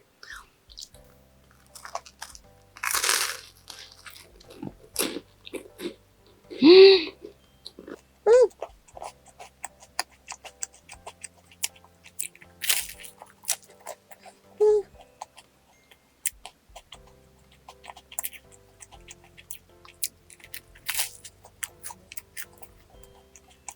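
Crisp crunching and wet chewing of a large garlic baguette during a mukbang meal, close up, coming in repeated bites across the stretch with a few louder crunch bursts and brief quiet gaps.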